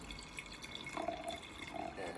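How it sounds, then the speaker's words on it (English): Wine poured into a glass, a faint, close liquid trickle with gentle splashing that rises slightly midway, heard alone in a quiet room. "I have to pour my glass of wine"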